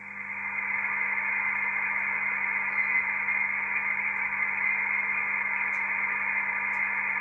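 A steady band of radio static and hiss with a constant low hum, carrying a faint, barely distinguishable amateur radio station signal on the 160-metre band in LSB throughout.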